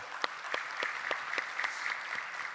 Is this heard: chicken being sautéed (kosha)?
no